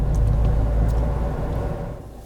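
An Opel Vivaro van drives along with a strong low road rumble and engine drone heard from inside, steady and loud before easing slightly toward the end.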